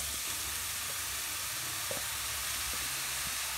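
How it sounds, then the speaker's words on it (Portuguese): Salt cod frying in oil in a pan, giving a continuous bright sizzle and hiss with small crackles, steady and close, with no voices. "agora eu vou colocar todo o bacalhau pra gente dar uma leve fritada nele."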